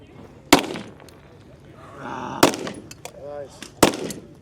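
Three sharp pistol shots ring out, spaced about two seconds apart, at a tactical shooting competition stage, with brief talk heard between them.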